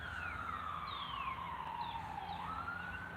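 A police siren in Virginia wails in the distance, its pitch sliding slowly down and then sweeping back up over a low background rumble.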